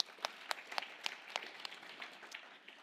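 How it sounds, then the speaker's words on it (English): Sparse applause from an audience at a talk, a handful of distinct claps in a loose, uneven rhythm, fairly faint and thin rather than a full ovation. "can we give them a big clap too?"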